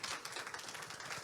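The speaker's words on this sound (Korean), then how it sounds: "여러분 다시 한번 큰 박수로 맞이해주십시오." Dense, steady applause from a university lecture audience at Tongmyong University, a continuous wash of many hands clapping with no voices over it.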